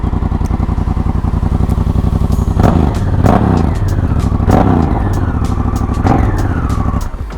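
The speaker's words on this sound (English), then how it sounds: "Let's fire it up and hear this bad boy. It's got a parallel twin 1000cc engine." An adventure motorcycle with a 1000cc parallel twin engine runs close by, a loud steady thrum punctuated by several quick throttle blips that rise and fall in pitch.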